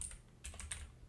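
Keys clack on a computer keyboard as a web address is typed, with a handful of quick, light strokes in an uneven rhythm, close and fairly quiet.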